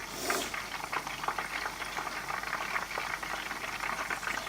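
Food fries in hot oil in a home kitchen pan, a close, steady, dense crackling sizzle that continues without pause and with no talking over it.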